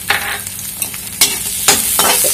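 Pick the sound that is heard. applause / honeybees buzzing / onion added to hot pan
onion added to hot pan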